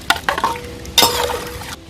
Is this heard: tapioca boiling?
yes